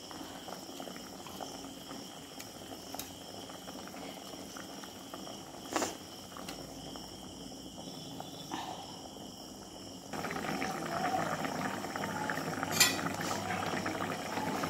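Hilsa fish curry broth bubbles and simmers steadily in a pan with eggplant, potato and bori, a soft continuous hiss that grows slightly louder near the end, with occasional utensil clinks.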